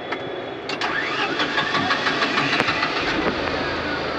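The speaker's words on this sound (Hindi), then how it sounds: "फाइनली गाड़ी चालू हो गई" A motorbike or scooter engine cranks and catches, then settles into a steady running idle with sharp intermittent clicks, close and fairly loud, with no voices.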